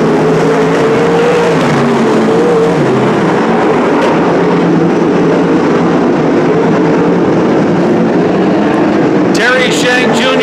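Spec sprint cars race at Petaluma Speedway, a loud, continuous engine drone with shifting pitch as cars pass, and voices talking over it throughout.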